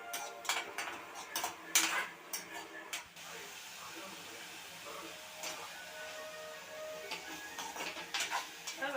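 Vallarai (brahmi) leaves being stirred and sautéed in a pan for sambar, with light scraping and clinking of a spoon against the metal and soft hissing, close and fairly quiet throughout.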